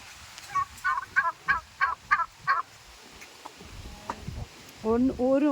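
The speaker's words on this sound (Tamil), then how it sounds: "கோழி, நாட்டுக்கோழி." Native country chickens on a farm call in a quick series of about seven short clucks, then a pause and a louder cackling burst near the end, fairly close and alone.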